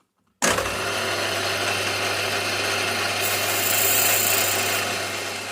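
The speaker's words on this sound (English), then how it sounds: "Okay, let's try and drill through then." Small 1.6 mm drill bit boring through metal on a live steam model Britannia locomotive, a motor whine starting abruptly and running steadily with a constant hum underneath, close and fairly loud.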